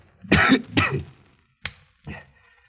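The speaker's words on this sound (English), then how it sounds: "with that cough of yours, perhaps I'd better broadcast tonight" A man coughs in a wartime spy radio drama, with two harsh close coughs followed by a short sharp cough and a softer throat-clearing hack, separated by silence.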